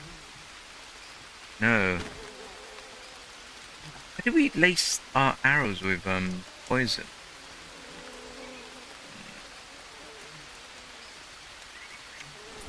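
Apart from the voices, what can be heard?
rain falling in Green Hell video game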